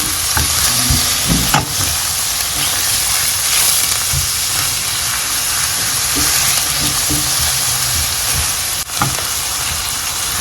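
Minced, chopped garlic is stirred in a hot wok for a pork stir-fry: a loud, steady frying hiss runs throughout, with occasional utensil scrapes and knocks close by.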